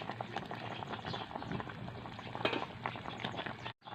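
Fish simmering in coconut milk in a covered pot, a soft steady bubbling with faint crackles and small pops that runs throughout, close and quiet with no talking.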